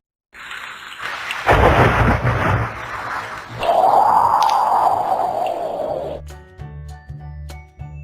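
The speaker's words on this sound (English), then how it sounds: "You hear the rain, the wind, and the thunder." A thunderstorm: heavy rain and a loud rolling rumble of thunder, wind gusting through, ending with a few low tonal notes over the rain.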